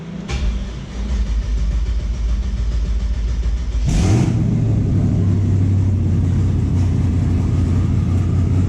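A Chevelle engine of over 1000 horsepower on a dyno idles loudly, then fires up with a sharp burst and settles into a deep, steady rumble close by.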